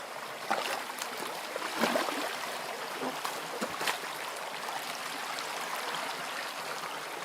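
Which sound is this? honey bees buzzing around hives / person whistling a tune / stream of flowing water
stream of flowing water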